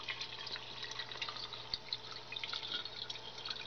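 Water poured into a container while testing heavy water with a beer densitometer, heard as a soft, steady trickle with small drips and splashes, close and fairly quiet, with no talking.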